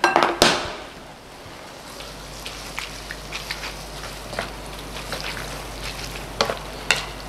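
Tomatoes sizzling in a pan of shrimp scampi sauce, a steady fry hiss under sharp clatter as they go in, followed by scattered stirring clicks and pops.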